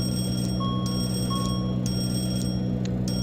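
Engine fire alarm test in a BAe 146-100 flight simulator game: a repeating electronic bell rings in quick, evenly spaced strikes with brief chirping tones, all over a constant low cockpit hum.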